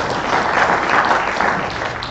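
Audience applause at an environment, health and safety event, a steady, dense clapping that holds at an even level for its whole length with no voices over it.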